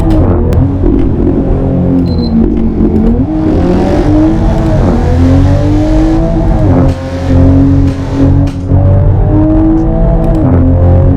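A car engine revs loudly up close, rising and falling, with sharp exhaust pops and crackles breaking through the drone.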